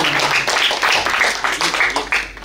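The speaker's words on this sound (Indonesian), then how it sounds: "Tepuk tangan untuk kita semua." An audience at a Betawi culture event claps together in a loud, dense burst of applause that pulses in uneven waves, with no talk over it.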